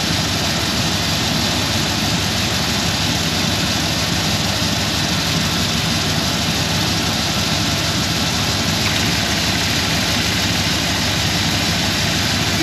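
Dodge Dakota engine running after an upper radiator hose repair, a loud, steady broadband roar close to the engine bay that holds unchanged for the whole stretch, with no voices.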